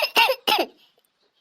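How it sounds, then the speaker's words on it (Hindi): Two harsh, loud coughs from a woman, close to the listener, each a short rasping burst, followed by a moment of near silence before another sound begins at the end. "हमारी दीदी बहुत तेज खांसी आवत है"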